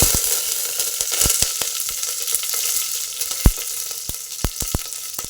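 Onion frying in hot oil with popping mustard seeds, tomato and coriander leaves, for a foxtail millet bisi bele bath. A steady close sizzle runs throughout, broken by sharp crackling pops at irregular intervals, with no talk.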